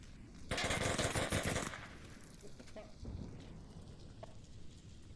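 Rifle fire in the VR shooter Onward during a competitive Peacekeepers vs Riot match: a loud rapid burst of gunfire lasting about a second, then quieter scattered distant shots and ambient rumble.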